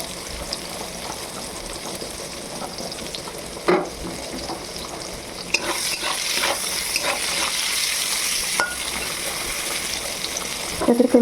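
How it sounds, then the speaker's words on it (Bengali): Soybean chunks sizzle steadily in a hot pan over a lowered gas flame, the crackle growing denser midway, with a few spatula knocks and scrapes as they are stirred. "সয়াবিনগুলো এরকম লাল লাল করে ভেজে নিতে হবে ভালো করে"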